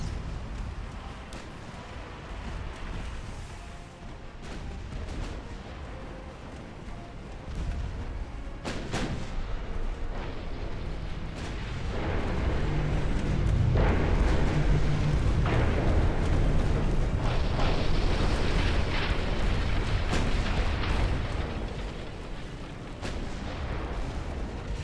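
Naval battle in Ultimate Admiral: Dreadnoughts as a battleship takes a torpedo hit, with heavy rumbling booms and sustained low roaring blasts building over a dense continuous battle din.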